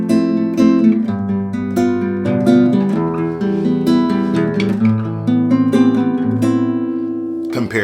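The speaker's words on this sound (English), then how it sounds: "the upstroke is whenever you're utilizing your ring finger to strum multiple strings at once" Guitar played with a finger upstroke technique, the ring finger strumming several strings at once, gives full, ringing chords that shift steadily in a continuous, loud, close passage with no talk.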